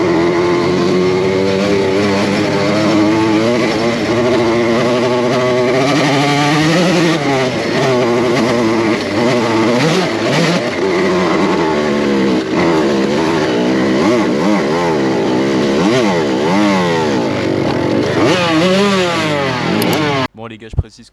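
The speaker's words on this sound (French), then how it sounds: "je pense que la moto est chaude, on va faire la petite montée là" A motocross motorcycle revs hard and continuously while climbing a short slope at an off-road spot. The engine pitch rises and falls as the throttle opens and eases off, and it stays loud and close for the whole stretch before cutting off abruptly at the end.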